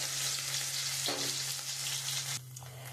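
Ginger and black cumin fry in leftover fish-frying oil with a steady, bright sizzle and hiss. A low hum runs underneath, and a brief stir or clatter breaks in partway through.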